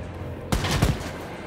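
Gunfire from a weapon in the video game Wolfenstein: Youngblood: two sharp, close shots in quick succession break a low background hum, then fade out.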